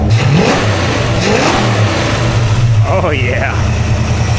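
A 1970s big block V8 engine in a jet boat, freshly fired up after dyno testing, revs in loud rising and falling pulls over a deep rumbling idle, close by, with someone talking briefly.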